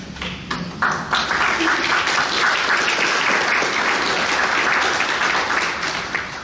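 An audience at a scholarly event honouring economist Luigi Orsenigo breaks into warm, sustained applause, a dense and steady roar of many hands that holds at full strength for the whole stretch.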